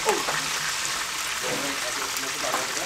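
Chicken broast deep-frying in hot oil makes a dense, steady hiss and crackle that fills the whole moment, loud and close, with a voice faintly underneath.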